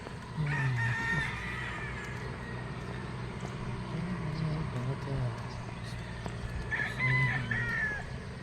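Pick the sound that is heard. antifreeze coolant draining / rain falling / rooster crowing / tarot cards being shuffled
rooster crowing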